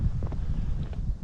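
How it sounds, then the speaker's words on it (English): Cold east wind buffets the microphone in steady low rumbling gusts on a snowy calving-season morning on a cattle ranch, with a few faint soft thuds in the background. "Got some snow squalls going on off and on here, and really cold east wind"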